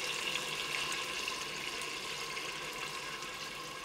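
Yakhni stock water pours slowly into a pressure cooker while the spices are held back, a continuous close splashing and gurgling stream with a steady level and no talking.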